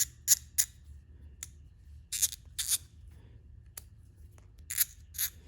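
A repaired Kobalt hand ratchet clicks in short sharp bursts, a few quick ratcheting strokes separated by pauses, close and crisp against a quiet background.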